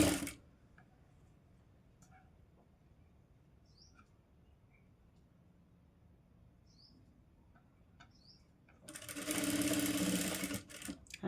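A sewing machine stitches a blouse seam in one short, loud burst near the end, after a long stretch of near silence with faint ticks and rustles.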